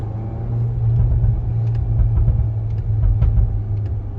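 VW Golf R MK8 with a six-speed manual and a stock valved exhaust, heard from the cabin as a deep, steady engine rumble rises in a rev while downshifting to second, loud and close with no talking.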